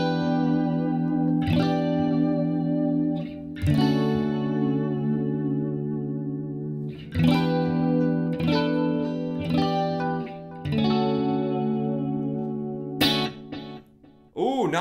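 Electric guitar chords and notes through a Headrush MX5 delay effect, ringing out with echoing delay repeats and a chorus-like shimmer, played continuously and loud.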